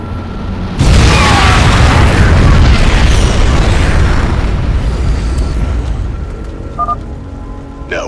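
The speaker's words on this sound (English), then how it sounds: "Nuclear missile ready." A nuclear missile explosion in the video game StarCraft II lands as a sudden, very loud boom after a brief lull, then rolls on as a long roaring rumble that slowly fades, with a few faint electronic blips near the end.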